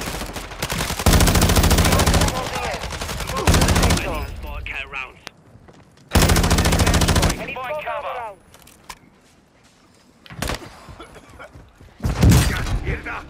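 Loud bursts of rapid automatic gunfire in a video game firefight come in long stretches with short gaps, with players talking between and over the shots.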